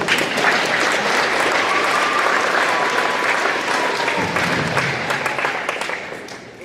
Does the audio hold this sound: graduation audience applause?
yes